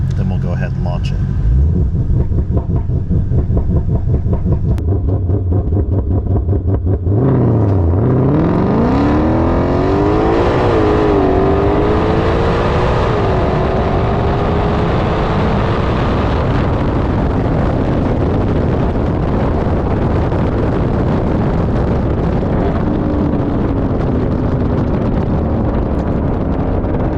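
A Ford Shelby GT500 on launch control idles with a deep rumble, then its engine climbs sharply in a loud rising rev that holds high and drones on, with wind buffeting the microphone and a person speaking over it.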